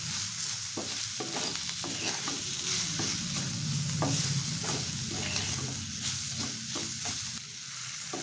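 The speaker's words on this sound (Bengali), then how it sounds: "লবণটা দেওয়ার পর আরও কিছুক্ষণ সিমটাকে এইভাবে একটু ভেজে নিতে হবে" Broad beans fry in a pan with turmeric and salt, a loud continuous sizzle close up, broken by regular scraping strokes as they are stirred.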